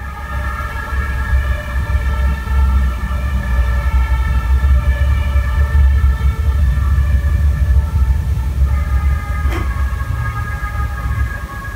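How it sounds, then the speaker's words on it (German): Emergency vehicle sirens sound continuously through the whole stretch, holding steady wailing tones over a low traffic rumble, with a brief sharp click near the end and no talking. "Kaum sind die Katzen ruhig, kommen die Sirenen."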